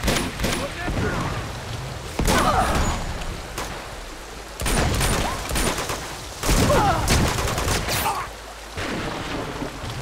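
Uncharted 2: Among Thieves gameplay with a grenade blast and bursts of gunfire, loud, broadband and repeated in roughly four heavy waves, while someone talks over the action.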